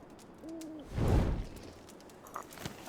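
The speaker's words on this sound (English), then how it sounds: "Did you just hear that owl?" An owl hoots twice in The Long Dark survival game, a soft paired call followed by a louder whooshing gust of wind in a quiet outdoor setting.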